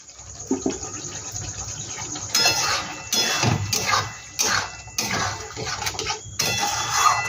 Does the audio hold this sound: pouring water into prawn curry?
yes